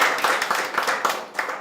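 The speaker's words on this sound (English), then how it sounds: "Clap for them." A group of children in a classroom clapping together in a quick, fairly steady rhythm, moderately loud and close, lasting a couple of seconds.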